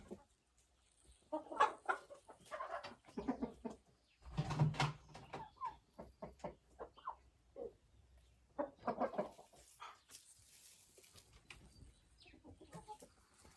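Marans chickens cluck around a metal nest, a series of close, separate clucks and short calls in irregular bursts with quiet pauses between them.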